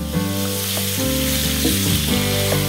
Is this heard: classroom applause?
no